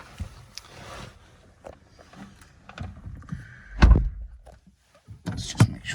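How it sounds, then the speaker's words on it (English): The door of a BMW 440i Gran Coupe M Sport shuts with one solid thud, framed by faint clicks and handling sounds in a quiet interior. "sure I've shut that door"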